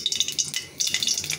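Bay leaf dropped into hot oil in a wok gives a quiet crackling sizzle with small popping bursts, briefly dipping before resuming.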